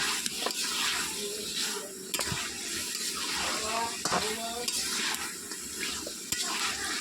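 Poultry meat curry frying in a pan is stirred, giving repeated scraping strokes over a continuous, watery sizzle, with faint speech in the background.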